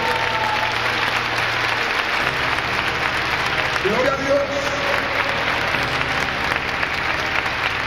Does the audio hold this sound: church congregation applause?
yes